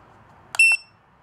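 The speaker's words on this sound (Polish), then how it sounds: "To jest alarm." A NUCTEST F6000 radiation dosimeter Geiger counter sounds its alarm: two short clicks followed by a single sharp, high electronic beep lasting about a fifth of a second, close and clear over near silence.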